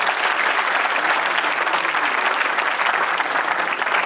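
At an awards ceremony in Jaipur honoring talented achievers, a hall audience welcomes Archana Biloniya with sustained, dense applause at a steady, loud level, with no speech over it.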